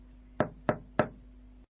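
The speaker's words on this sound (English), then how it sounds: "He knocked on the door." Three evenly spaced knocks on a wooden door, crisp and fairly close, with a quiet steady hum beneath and nothing else.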